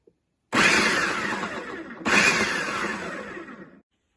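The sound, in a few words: blender pulsing onion, shrimp and green chili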